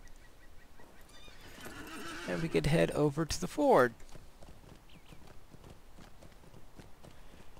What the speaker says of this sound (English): But I'll take a little break as we take this little horse ride.